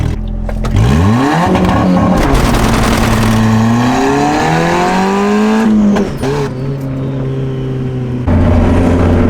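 Turbocharged Honda Civic with a 16G turbo revving hard on two-step launch control near 6,500 RPM, loud and close, with rising and falling engine tones, a brief dip near six seconds, then a steady high-rev hold.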